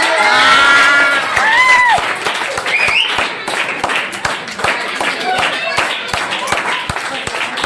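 A crowd of children and adults claps loudly and cheers for the first-place winner of a writing competition, steady rapid clapping throughout with shouts and a voice over it at the start.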